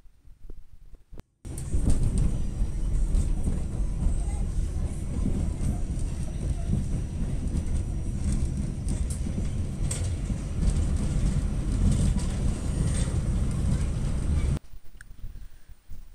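A moving Long Island Rail Road train in Queens, New York, heard from aboard as a steady low rumble and roar of wheels on track, starting abruptly after a quiet moment and running loud and continuous before cutting off.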